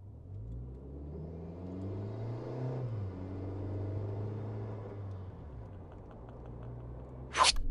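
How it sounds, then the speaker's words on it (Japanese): A Suzuki Jimny Sierra fitted with a Trust turbo kit accelerates from 0 to 40 km/h on a public road, its engine rumbling up through a rising pitch, easing, then a sharp brief hiss at the end. "安全の範囲内で0-40キロの加速をやってみます"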